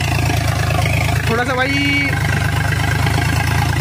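An Eicher 551 tractor engine pulls a 7-foot rotavator in a loud, steady diesel drone that runs without a break, while someone talks briefly over it.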